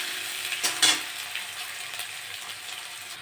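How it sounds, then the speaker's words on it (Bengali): Onions hit hot oil already tempered with panch phoron and sizzle steadily, with a few sharp bursts and light stirring clinks near the start, then settle into an even fry. "পেঁয়াজগুলো একটু লাল লাল করে ভেজে নেব"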